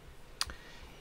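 A single sharp computer mouse click, close and quiet, with a faint second tick just after, against low room hum.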